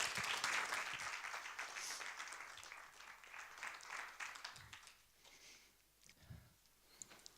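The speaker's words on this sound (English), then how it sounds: "Everyone, big round of applause for Angelique." Loud, sustained applause from a lecture audience, with dense clapping that gradually thins and fades out toward the end.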